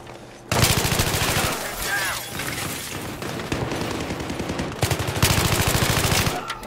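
Rapid automatic fire from an F2000 rifle during a Battlefield 3 match, loud sustained bursts with brief pauses between them, over game background noise.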